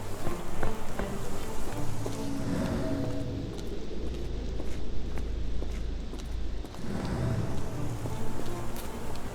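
Steady rain in the video game Sherlock Holmes The Awakened patters continuously with a low rumble beneath, an even ambient wash that dips briefly midway before resuming.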